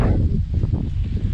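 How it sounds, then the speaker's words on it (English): Wet, windy gusts from an approaching hurricane at a Florida resort roar over the microphone in a dense, low rumble. The gusts swell and ease in a few uneven pulses, with no talking. "There's the occasional gust of wind."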